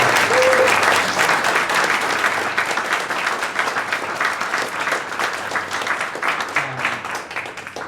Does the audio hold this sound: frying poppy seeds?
no